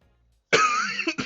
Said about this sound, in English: It's more of just a cough.